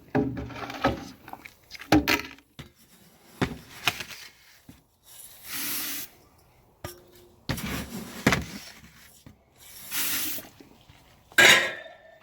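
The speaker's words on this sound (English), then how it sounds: "So giving this a good stir." Stirring beer mash in a brewing pot at 65°C during a Kveik brewday: a paddle scrapes and knocks against the pot in irregular bursts, with sloshing liquid and short clatters, close by and fairly quiet, with no talk.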